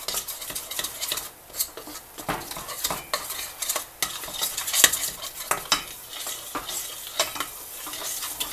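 A utensil scrapes and stirs around a pan as flour cooks into a cheese sauce over heat. The strokes are repeated and uneven over a soft sizzle, with scattered clinks against the metal.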